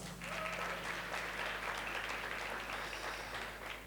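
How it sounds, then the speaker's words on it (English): Students at a Cambridge Academy graduation clap for themselves, a dense, steady round of applause filling the room for several seconds before easing off slightly. "Please clap for yourselves."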